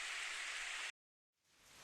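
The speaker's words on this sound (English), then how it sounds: "Did it rain this much before?" Heavy rain in the visual novel game Steins;Gate, a steady dense hiss that cuts out abruptly to silence and then fades back in, with no voices.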